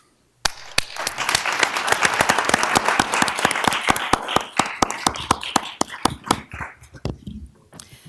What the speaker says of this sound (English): Please join me in giving them a warm welcome and applaud these young people on their tremendous achievements.